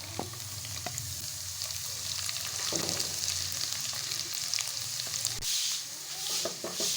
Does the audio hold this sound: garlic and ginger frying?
yes